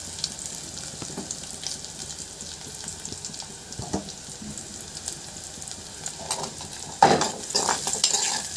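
Ingredients sizzle steadily in a pan with occasional stirring scrapes, building to a louder burst of frying near the end, with no voices.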